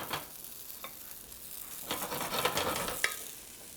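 Risotto rice toasting in a pan over low heat gives a soft, faint sizzle with scattered crackles and a few stirring scrapes, quiet and close with no talk.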